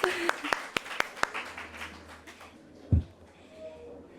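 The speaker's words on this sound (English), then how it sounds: "Please give yourself a round of applause" A few people clap briefly after an exercise session, about six crisp, separate claps fading out, followed by a single louder thump and some quiet talk.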